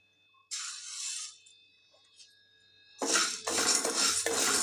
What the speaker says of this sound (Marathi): कढईत शाबू घालून घेऊया